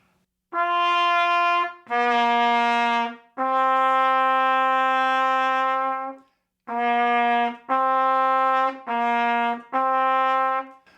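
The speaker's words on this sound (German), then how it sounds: "In dem Falle ist aber das D, was ich auf dem Instrument und auf dem Flügelhorn brauche, viel zu hoch." A four-valve flugelhorn plays a D pitched too high, heard as a series of sustained notes, one long and several shorter, separated by brief gaps, close and unaccompanied.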